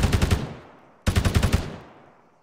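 Two loud, close bursts of machine gun fire in the video game Arma 3, each a rapid string of about six shots that ends in a rolling decay, with a short pause between them.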